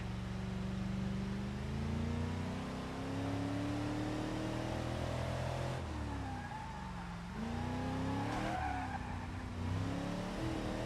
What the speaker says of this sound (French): J'ai éclaté un pneu.